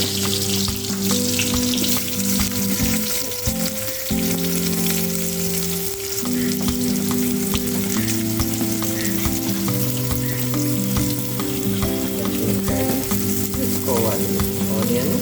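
Onions and green chillies fry in oil for a fish curry, a loud, continuous close sizzle and crackle lasting throughout, with steady tonal hum underneath and no talking.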